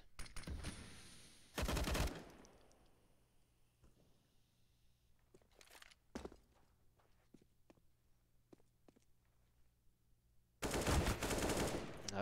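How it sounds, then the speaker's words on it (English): Automatic gunfire from a Counter-Strike esports qualifier match on the Mirage map: a short loud burst near the start, faint footsteps and clicks in between, then a longer sustained volley at the end. "Good shot there from Dams."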